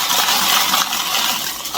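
A dense, continuous rattling cascade of pastry weights poured together into parchment paper lining a pie crust, loud and close, lasting a couple of seconds.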